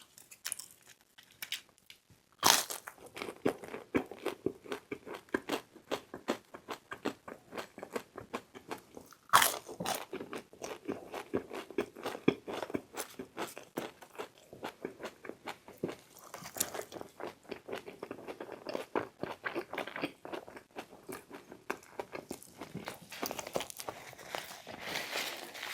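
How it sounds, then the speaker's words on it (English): Close, repeated biting and crunching of Sonic Drive-In fast food, with sharp crisp bites followed by steady chewing clicks and crunches in an irregular rhythm for the whole stretch, loud and up close with no talking. "Maybe I should just end with a crunch, I guess."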